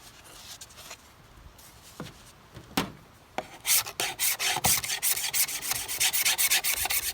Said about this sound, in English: See if it'll scrape.